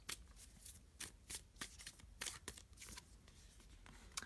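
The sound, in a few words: shuffling affirmation cards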